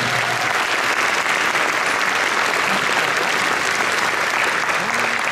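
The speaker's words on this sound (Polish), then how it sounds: "Duże brawa dla tych młodych ludzi." A concert audience at a Polish music show gives sustained, loud applause for young performers, a dense continuous clapping with faint voices underneath.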